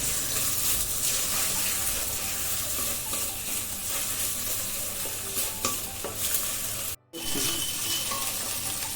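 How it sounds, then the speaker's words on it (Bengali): An egg fries in hot oil in a wok, giving a steady, close sizzle throughout that breaks off for a moment near the end before resuming. "ডিমটা ফ্রাই করার জন্য কড়াইতে তেল দিয়ে দিয়েছি।"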